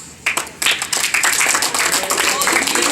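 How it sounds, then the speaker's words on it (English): Scattered clapping at a high school varsity bowling banquet, a few hands patting in an uneven rhythm over general room noise, with a voice speaking over it. "She's clapping for herself"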